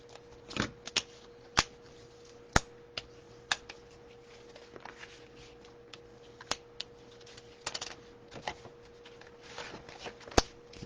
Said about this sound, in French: on va marquer tous ces plis avec le plioir en os